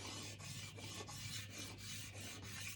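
Pastel chalk being wiped and rubbed across a drawing to smooth a line, a soft, close dry rasp repeating in a steady rhythm of about seven quick strokes over a low hum.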